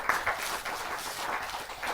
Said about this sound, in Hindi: जोरदार तालियों के साथ हम तालियां घनघोर होनी चाहिए।